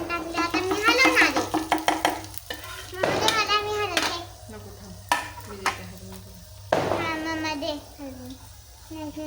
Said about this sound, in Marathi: इरा काय करते शेंगदाणे फ्राय करते